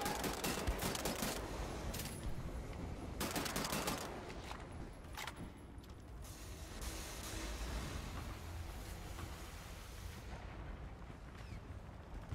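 Continuous rapid assault rifle fire from the first-person shooter Wolfenstein: The New Order, dense bursts and rattling volleys layered over battle noise, loud and sustained for the whole stretch.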